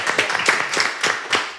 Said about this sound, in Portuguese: Palmas pra Cláudia Raia.